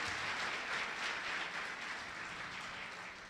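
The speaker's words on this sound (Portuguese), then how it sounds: "Vamos dar uma salva de palmas." A church congregation applauds during a diploma presentation, a steady dense wash of hand clapping that holds at an even level for the full stretch, with no voices over it.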